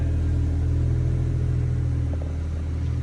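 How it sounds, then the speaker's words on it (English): A BMW M140i engine idles after coming off its fast start-up idle, a steady low hum and rumble, even and unbroken throughout, with no talking. "the car's just come off of its fast idle from start up"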